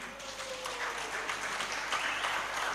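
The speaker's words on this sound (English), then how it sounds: "So let's give a great round of applause to everybody." Broad, dense applause from an audience at a golf tournament ceremony honoring the PGTI team, a steady wash of many hands clapping at moderate distance, faint and continuous.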